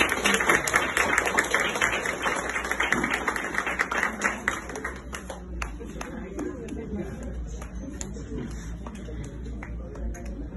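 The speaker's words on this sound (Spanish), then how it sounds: "Fuerte los aplausos." Applause at an emotional ceremony, dense clapping strongest in the first half and thinning into scattered claps as it fades, with some voices mixed in.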